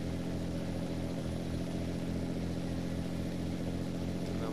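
Engine of a Scania 141 truck in Euro Truck Simulator 2, a loud, continuous low drone with steady harmonic roar at constant speed, unbroken throughout.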